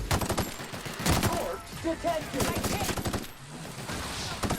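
Rapid gunfire in The Outer Worlds rattles in quick repeated shots throughout, mixed with a shouted voice and combat noise.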